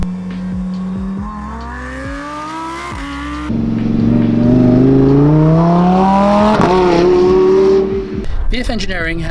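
An 830 HP supercharged Lamborghini Huracan STO accelerates hard, its loud engine note climbing steadily in pitch through a gear change, then peaking and breaking off near the end.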